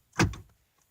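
Power door locks on a Cadillac actuate in a single short mechanical thunk, close and sharp, then fade into quiet.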